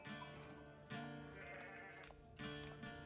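Several sheep bleat in the Age of Empires 4 early game, wavering repeated calls at a steady loudness over a constant game background.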